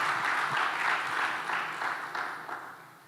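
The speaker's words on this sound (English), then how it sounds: "Ladies and gentlemen, a round of applause for the Honorable Osafo Marfo." An audience at a CEO summit applauds a guest of honor with a warm, even burst of many hands clapping, moderately distant, gradually fading toward the end.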